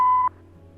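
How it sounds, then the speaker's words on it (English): A voicemail beep in the video game Kathy Rain 2 sounds once, a short clear tone lasting under a third of a second, then cuts to quiet line hiss. "Please leave a message after the beep."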